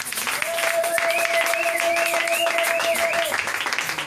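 Church congregation applauding: a steady, dense wash of clapping from a crowd, loud and sustained for about four seconds, with a held sung or shouted tone rising over it.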